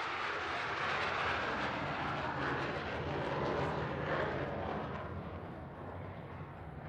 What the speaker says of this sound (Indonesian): inilah dia, pesawat tempur F-16 Fighting Falcon TNI Angkatan Udara